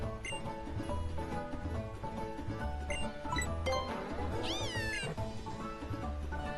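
A small cartoon fire-type cat Pokémon, Litten, gives a meow in Pokémon Ultra Moon. The cry rises and bends over steady background game music with soft rhythmic beats.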